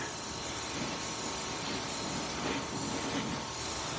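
Spray paint hisses in a steady, continuous stream, close and even throughout, with slight swells in intensity and no voices.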